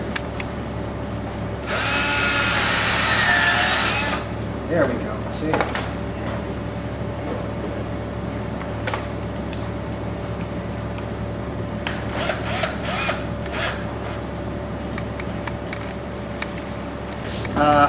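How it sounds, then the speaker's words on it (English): A loud power drill whirs for a couple of seconds while boring into wood, followed by quieter handling clatter and a few spoken words. "pre-drill both sides."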